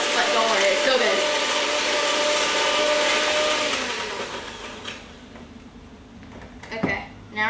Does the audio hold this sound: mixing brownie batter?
yes